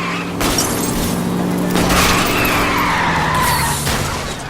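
Car tires skid and screech loudly as a vehicle is rammed and spun out during a police chase in L.A. Noire, a continuous grinding squeal with engine roar over about four seconds.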